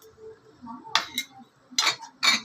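A spoon clinks against a bowl while mixing chilli powder for a country-chicken pickle, a few sharp metallic taps and scrapes, close and fairly quiet, with no talking.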